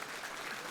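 Applause from a gathered audience at a teachers' association meeting in Rajasthan, honouring the organisation's founder; a steady, dense wash of clapping fills the short moment, fairly quiet and even throughout, with no voice over it.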